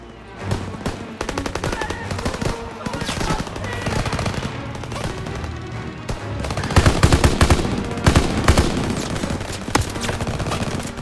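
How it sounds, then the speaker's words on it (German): Heavy gunfire in Call of Duty: WWII ringing through a city's cafe district: rapid machine-gun bursts and scattered shots, loud and unbroken, growing denser in the second half. "Stop shooting it up!"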